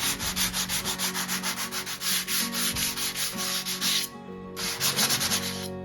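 Steady, rhythmic sandpaper strokes rasp back and forth across wood, close and continuous, with a brief pause near the end before the scrubbing resumes.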